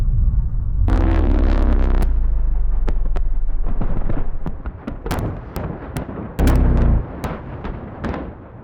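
A huge movie stunt explosion of 2,224 gallons of fuel and 73 pounds of explosives: a loud deep roaring blast and rumble, followed by scattered sharp cracks and bangs and a second heavy burst.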